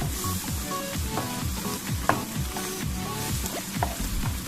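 An egg cooks in a pan with a close, continuous crackling sizzle and small pops throughout, and no talking.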